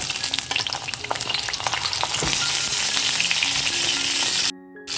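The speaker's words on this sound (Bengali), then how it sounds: "এবার এই একই তেলের মধ্যে আমি পটলগুলো দিয়ে ভেজে নেবো" Pointed gourd (potol) slices fry in hot oil that was already used for frying, giving a loud, steady crackling sizzle with occasional stirring clatter, then it cuts off abruptly near the end.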